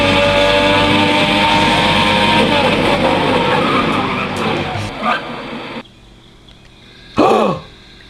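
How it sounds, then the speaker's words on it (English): A cartoon car with a V6 engine roars loudly into a railway yard with tyre skidding, then cuts off abruptly, followed by a brief squealing whoosh after a short pause. "Thomas in the car heard the sound of a V6 engine coming into the yard"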